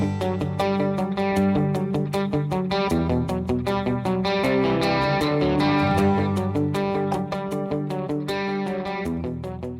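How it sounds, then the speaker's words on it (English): Electric guitar in the Brad Paisley style plays a chiming, continuous picked pattern through a dotted eighth note delay, the echoes filling the gaps into a dense, rhythmic cascade with no talking. "The last common one right now is a dotted eighth note delay."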